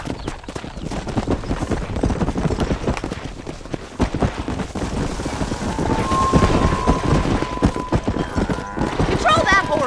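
Horse hooves clip-clop in rapid, continuous rhythm while cattle are herded down a road in the video game Red Dead Redemption. Wind noise runs underneath, and voices call out over the hoofbeats.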